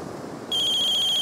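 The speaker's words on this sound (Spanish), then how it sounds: "¡Ay, mi teléfono!" A mobile phone ringtone starts abruptly after a quiet moment, a loud, steady electronic tone that continues to the end.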